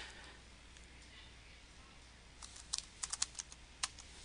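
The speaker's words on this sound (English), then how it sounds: "We need to display a title, and we can type into there" A computer keyboard is typed on in a quiet room, giving a short burst of a few crisp, fairly close keystrokes near the end after faint background hiss.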